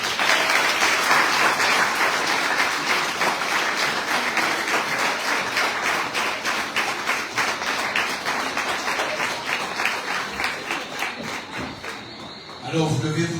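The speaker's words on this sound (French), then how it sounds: "Mesdames, messieurs, sous vos applaudissements, Sandy Delta Swama." Dense, sustained applause from an audience at a Tour de Guadeloupe cycling team presentation, steady and loud, thinning out toward the end.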